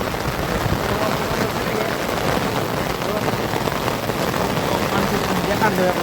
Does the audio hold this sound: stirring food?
no